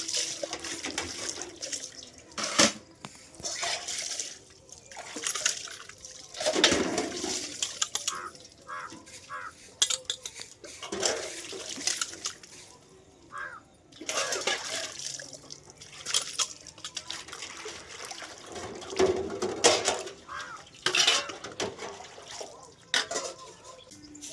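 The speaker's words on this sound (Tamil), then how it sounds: "அடிபெட்டால் எப்போனாலும் நம்ம தண்ணி அடிச்சுக்கலாம்" Water is drawn by a hand pump at a home, splashing and gushing in irregular bursts with dripping and pauses between strokes, and occasional faint speech.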